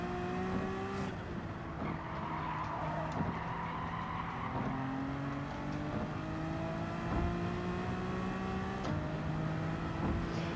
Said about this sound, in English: This car's good to rev out.